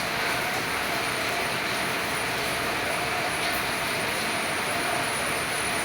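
A passenger airplane landing on a flight to Bangalore fills the cabin with a loud, unbroken engine and airflow roar, with a faint steady whine and no voices.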